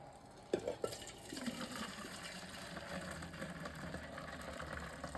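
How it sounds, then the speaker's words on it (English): Hot water pours steadily into a coffee maker with a faint, continuous splashing rush after a few small clicks and knocks, fairly quiet and close. "now we're gonna add our hot water"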